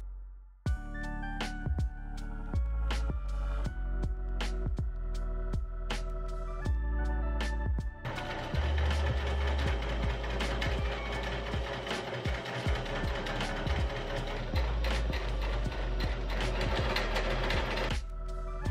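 A sewing machine stitches a dress, first in short separate bursts of needle strokes, then settling into one long, steady, close-up run.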